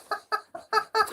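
A chicken clucks five times in short, evenly spaced bursts, close and fairly clear, with nothing else over it.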